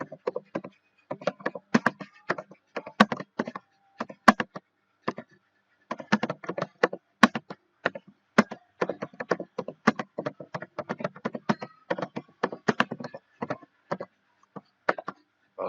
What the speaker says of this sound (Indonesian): mulai kita mengetik soal